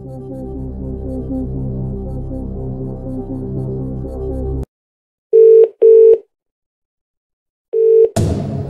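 Telephone dialing in the Who Wants To Be A Millionaire video game: a held dial tone cuts off, then three short electronic tone beeps sound with silent gaps, followed by a burst of noise.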